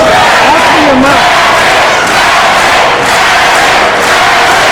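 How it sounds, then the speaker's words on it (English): Basketball arena crowd roaring and chanting for Magic Johnson during a game, a loud, dense wall of voices sustained throughout without breaks. "The crowd calling for Magic Johnson once again."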